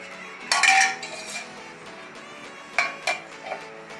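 An iron pan being covered with its lid while a sweet snack cooks on low flame: a loud metallic clank and rattle up front, then two lighter clinks a couple of seconds later, close by with no talking.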